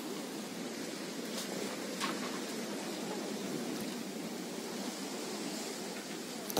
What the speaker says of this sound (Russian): Такое сегодня море.